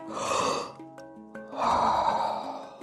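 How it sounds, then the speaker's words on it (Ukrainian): Two sharp, loud inhalations during Wim Hof guided breathing practice, separated by a short pause in which soft, sustained tonal music plays. "зосереджуємося і знову різкий вдих"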